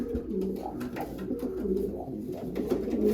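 Domestic pigeons coo steadily inside a loft, their low rolling calls overlapping continuously at close range with no pauses.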